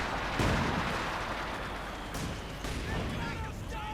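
Artillery bombardment in the real-time strategy game Company of Heroes 2: dense, rumbling blasts and booms layered over continuous battle noise, with a voice commentating over the top throughout.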